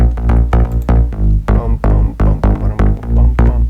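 A big, throbbing synth bass line from the Avenger synth's Greedy Bass patch pulses in short rhythmic stabs, loud and upfront, with a house kick thumping beneath it.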